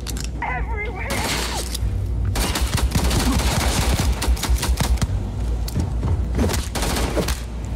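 Rapid gunfire from the Starfield video game rattles in dense, fast bursts through most of the passage, with a person speaking at the start and voices mixed in with the shooting.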